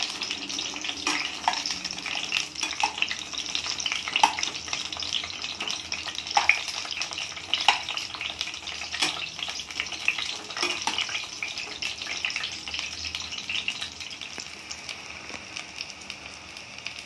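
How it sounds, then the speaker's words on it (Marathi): Eggplant (brinjal) half-fries in hot oil, with steady close crackling and sizzling broken by frequent sharp pops and spatters, and no talking. "वांगी अर्धी फ्राय करून काढायची."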